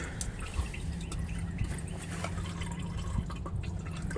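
Engine oil draining from the drain plug of a 2011 Toyota Yaris into a pan, a steady close trickle with scattered drips running throughout under a low background hum.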